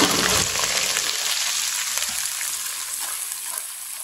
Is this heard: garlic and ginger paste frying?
yes